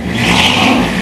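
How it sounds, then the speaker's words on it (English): A 1957 Chevrolet Bel Air with dual four-barrel carburetors and an automatic transmission revs steadily, a loud continuous engine roar held close for the whole moment. "Give it a little gas, Tim."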